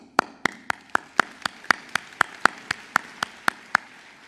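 Applause for graduates at a Joliet Junior College commencement comes through as about fifteen sharp, evenly spaced claps in a steady rhythm, clear and fairly close, with no talking.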